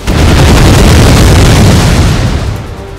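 Grenade explosions in the Empire: Total War strategy game, a loud, continuous roar of overlapping booms and bursts that fills the whole stretch and eases off slightly near the end.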